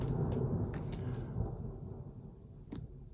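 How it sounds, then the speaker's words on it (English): Deep, rolling thunder rumbles loudly during a thunderstorm in London, slowly fading over a few seconds, with faint crackles and rain-like hiss above it and no voices. "After the big rumble of thunder,"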